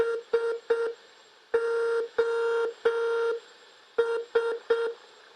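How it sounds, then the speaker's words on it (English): Clear electronic tones spell out SOS in Morse code: three short beeps, three longer beeps, then three short beeps again, alone in quiet. "So that's Morse code for SOS."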